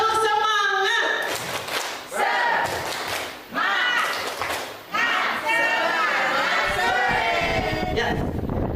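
A group claps a rhythmic spirit clap in a classroom-style setting, several sharp bursts of hand claps mixed with loud voices chanting along over about nine seconds.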